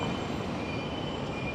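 An LRT light rail train passes at a station, a steady broadband rumble of wheels and rail noise with faint high-pitched squeal tones, heard alone without talk.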